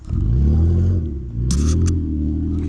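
A Toyota Highlander four-wheel drive revs hard through loose sugar sand, its engine rumbling loud and close with a brief dip and surge midway and some sandy scraping on top.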